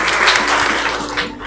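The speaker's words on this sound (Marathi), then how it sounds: "अलीसाठी टाळ्या." A classroom of students gives a short burst of applause for a classmate, dense, close clapping that lasts about a second and a half before it fades.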